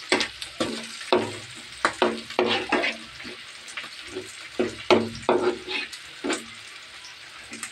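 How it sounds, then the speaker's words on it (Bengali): Hilsa fish frying in a pan while cooking ilish pulao: close, crackling sizzle in irregular bursts with spitting pops and occasional utensil scrapes. "ওদিকে মাছটা ভাজা হচ্ছে।"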